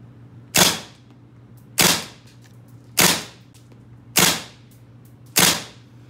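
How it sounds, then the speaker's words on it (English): An Umarex H&K G3A3 gas blowback airsoft rifle fires five single shots at an even pace of about one per second, each a sharp, loud, close crack over a low steady hum. "now we're going to test the FPS on this Heckler & Koch G3A3 rifle"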